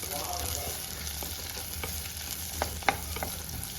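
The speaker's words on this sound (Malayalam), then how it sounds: "ചെറിയ ഉള്ളി ഇട്ട് നന്നായിട്ട് ഇളക്കണം അതായത് നമ്മുടെ ചെറിയ ഉള്ളി നന്നായിട്ട് വഴണ്ട് വരണം" Small onions frying in a pan for a Kerala-style brinjal curry, a steady close sizzle broken by a few sharp scrapes and taps of stirring.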